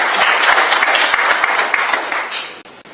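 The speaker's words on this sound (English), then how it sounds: "That applause for me with your introduction" Applause fills a city council chamber during a meeting, a dense, steady patter of many hands clapping close by that thins and stops abruptly near the end.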